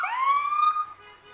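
A short emergency siren wail from an ambulance or fire truck rolling in a stampede parade, rising quickly then holding a bright tone before fading, fairly close and clear.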